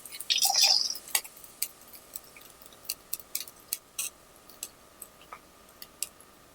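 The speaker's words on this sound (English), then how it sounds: "I'm going to pour this over here into my grease pan now." Old hamburger grease poured from a cooking pan into a grease pot: a short, close liquid pour, then a sparse, irregular run of small drips and ticks, fairly quiet with no talking.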